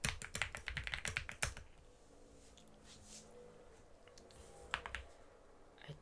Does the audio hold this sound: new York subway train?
no